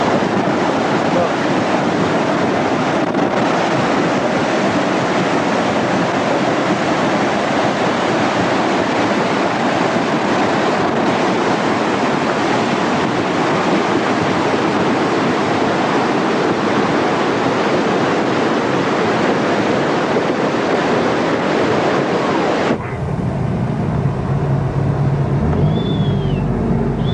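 The snowmelt-swollen Russian River roars loudly and continuously, a dense wash of turbulent noise that carries on without a break.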